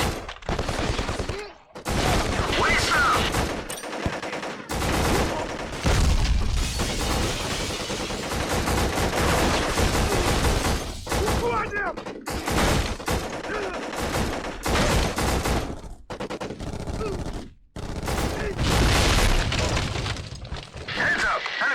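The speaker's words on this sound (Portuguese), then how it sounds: "esse aqui em cima do muro atirando na gente" Enemies firing from atop a wall in the video game Black produce dense, sustained bursts of loud gunfire and explosions that continue almost without pause, with brief gaps and some talk underneath.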